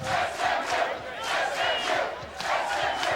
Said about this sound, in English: you may be able to hear the crowd in the background.